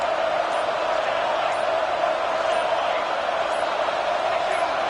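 A loud stadium crowd at a Northwestern versus Maryland football game roars in a steady, sustained wall of noise, with no voices standing out from the din.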